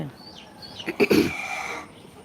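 A native country hen gives a few faint, plaintive calls at a distance, followed by a couple of louder, closer squawking clucks.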